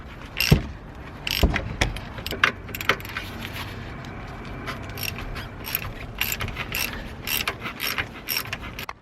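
Size 7 Allen key working on a car's brake caliper during a brake pad and rotor replacement: close, sharp metallic clicks and ratcheting clanks in irregular bursts, with no talking.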